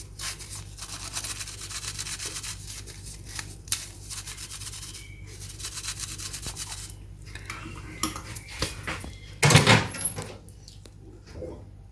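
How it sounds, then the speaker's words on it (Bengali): Baking powder sifted through a sieve for a mango cake, giving a steady soft rubbing and scraping that continues throughout, broken by a louder metallic rattling burst near the end. "বেকিং পাউডারটা আমি একটু চেলে দেব।"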